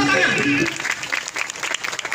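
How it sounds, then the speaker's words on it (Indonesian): Applause from an audience at a pencak silat martial arts performance after a back somersault, lively clapping that overlaps with an announcer talking over a loudspeaker and then thins into scattered claps. "Tepuk tangan."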